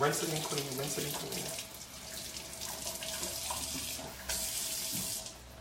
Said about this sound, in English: I do a lot of rinsing. Nothing wrong with that. A lot of rinsing. Rinsing and cleaning.